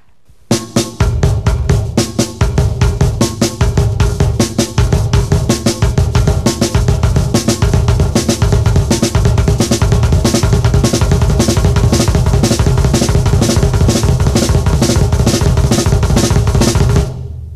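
A drum kit plays a fast, relentless sextuplet pattern, two hand strokes then four double bass pedal kicks, rumbling under crashing cymbals and snare hits, loud and close throughout.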